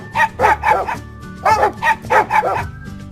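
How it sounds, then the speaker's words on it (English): A dog barks in quick pairs, several loud close yaps in a bouncy rhythm, alone with no other sound behind them. "Dog."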